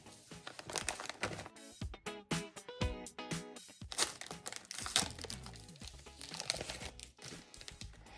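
Paper blind bag surprise packets with Zootopia and Disney Elsa themes being torn open and unwrapped by hand, a near, busy run of crinkling, rustling and tearing paper with sharp crackles throughout and no talk.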